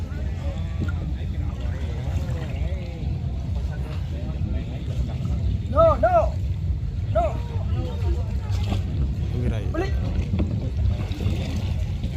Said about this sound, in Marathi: बास्केट बोट चालवतो आहे